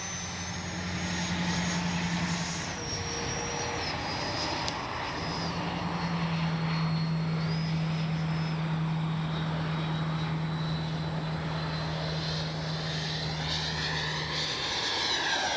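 A Freewing 90mm F/A-18C RC jet flying overhead, a loud continuous ducted-fan whine and roar whose pitch rises and falls as it passes and circles, with no voices.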